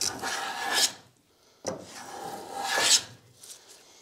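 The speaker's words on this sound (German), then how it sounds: "Jetzt mit dem Einhandhobel." A one-handed block plane shaves fine wood curls during traditional joinery work on a nightstand, giving soft rasping strokes that swell and fade, with two main passes and a short third, close and alone.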